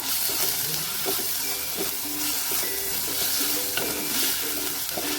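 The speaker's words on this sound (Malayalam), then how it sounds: "ഇനി ഇതൊന്ന് ഇളക്കി കൊടുക്കാം" Curry leaves, green chilies and tomato frying in a pan for Kerala-style fish curry, a continuous loud sizzle and hiss with repeated scraping stirs at an uneven pace, close up, no speech.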